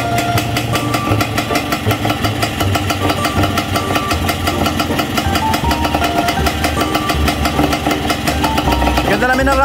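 A Yamaha DT125 two-stroke motorcycle with a Mikuni carburetor idles steadily nearby, a loud, continuous rapid putter with a revving swell at the end and voices talking over it.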